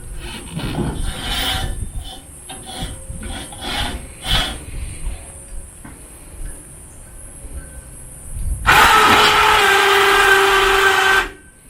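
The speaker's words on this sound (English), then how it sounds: "So the key fob actually lifts the winch up and down." An electric winch on a mini forklift rattles and creaks through scattered mechanical clunks, then a loud, steady motor whine runs for about three seconds before cutting off.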